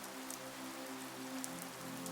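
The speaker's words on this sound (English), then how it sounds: "The rain is a constant, soothing percussion against the skylights above" Rain patters steadily on the skylights of a lake cabin, a soft, constant hiss of drops with a faint low tonal hum running beneath it.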